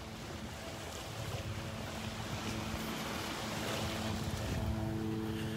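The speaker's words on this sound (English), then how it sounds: "that wind feels like it's coming out of the south" Wind rushing across a Gulf beach at Delnor-Wiggins with surf washing in underneath, a steady broad roar that swells slightly louder toward the end, with no talk.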